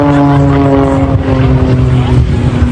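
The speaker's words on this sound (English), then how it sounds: "And then pushing the aircraft back down." The propeller engine of an aerobatic aircraft drones loudly during a manoeuvre at the Blackpool Airshow, with a steady harmonic tone that holds throughout.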